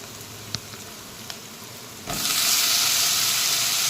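Quiet background with a couple of small clicks, then a sudden loud, steady sizzling as chopped brinjal hits a hot pan and keeps frying.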